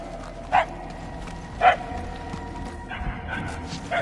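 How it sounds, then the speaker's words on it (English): Dog barking in the Guardians of the Galaxy video game, two distinct barks about a second apart followed by softer yips, heard alone over a low game ambience. "The barks are getting louder at least."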